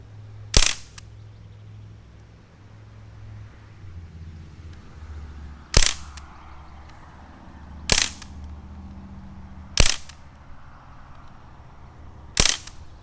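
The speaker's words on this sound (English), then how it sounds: "we're gonna rack a couple rounds at it and see how she does" A WWII-style BB gun fires in semi-automatic mode at a target down range. Five sharp, loud single shots are spaced a few seconds apart over a quiet background hum.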